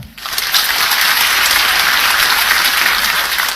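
An audience claps loudly for Anies Baswedan, a dense, sustained burst of applause that rises quickly and holds steady without talk.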